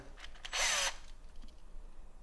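A short, high-pitched whir of a power drill spinning briefly, then stopping, against quiet room noise, while installing a wrap-around bumper on a 2023 Ski-Doo Expedition SE 900 ACE snowmobile.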